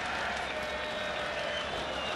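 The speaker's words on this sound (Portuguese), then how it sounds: "A torcida do Fluminense está incentivando os jogadores momentos antes da disputa por pênaltis." Fluminense fans cheer in the Maracanã stadium, a dense, distant roar of a huge crowd that fills the clip without a break.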